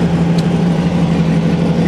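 A 1958 turbocharged VW Beetle engine idles steadily while warming up, a loud, close, constant drone with a low hum running throughout.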